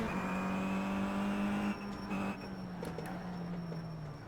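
A Kia Optima race car engine in the iRacing game holds a steady tone at a standing start at Bathurst, faint and distant, then drops off as other cars whir nearby.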